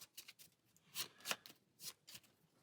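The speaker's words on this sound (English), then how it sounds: "so we'll give that a quick shuffle" A deck of Valeria Card Kingdoms game cards is given a quick shuffle, several quiet, brisk riffling bursts in an irregular rhythm, close and soft with no talking.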